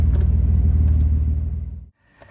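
A drift car's engine rumbles loud and close with throaty pulsing revs, then cuts off abruptly, leaving near silence and a faint knock.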